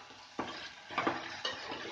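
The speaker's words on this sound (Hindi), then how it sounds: "और अब हम इसे फ्राई कर लेंगे।" An onion-masala mixture with turmeric, red chilli and vegetable masala powders fries in a pan, soft sizzling broken by a few quick stirring scrapes, close but quiet, with no talk.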